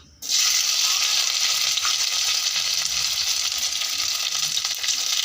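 Boiled chopped potatoes fry in hot oil on a gas stove, a loud, steady sizzle that starts abruptly and keeps up a dense crackle with occasional stirring scrapes.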